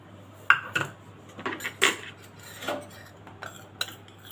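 A spoon tapping and scraping against a metal pot as gram flour goes in for dahi kadhi, a few close irregular clinks over a quiet background, no speech.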